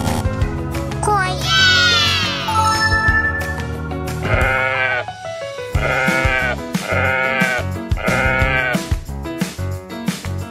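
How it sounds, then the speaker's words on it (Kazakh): A sheep bleats loudly and close by, several times in a row. The wavering cries come in quick succession, with brief pauses between them. "Қой."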